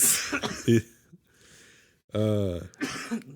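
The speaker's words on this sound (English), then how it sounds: "Pardon my cough." A man coughs and clears his throat in a few rough bursts, close to the mic, with brief gaps and some breathy, voiced noise between them during a casual conversation.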